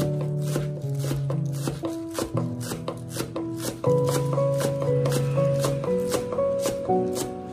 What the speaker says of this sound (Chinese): 备一把小葱，把葱叶和葱白分开切， 葱花切好以后和蒜末放在一起，剩下来的葱叶也把它切成葱花。